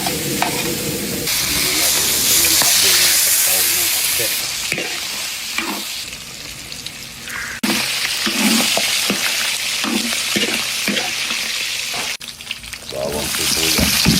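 Garlic and onion sizzle in a pan for pinakbet, a steady loud frying hiss broken by repeated scraping stirs and clinks of a utensil, with the sizzle swelling and dropping as the pieces are moved.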